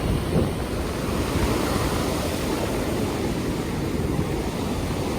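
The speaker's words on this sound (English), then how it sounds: "High tide again. It's really coming up far." High tide waves washing far up a beach, a continuous broad surf roar mixed with wind buffeting the microphone, steady and loud, no voices.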